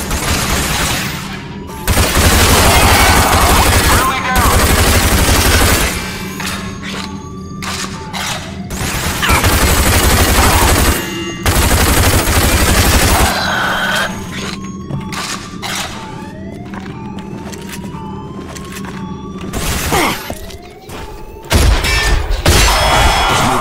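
Gunfire in the video game Rage: loud bursts of shots and heavy impacts in long blasts, broken up by quieter gaps with whooshes and metallic clangs.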